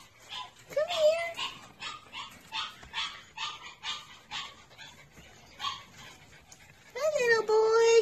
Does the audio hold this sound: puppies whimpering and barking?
yes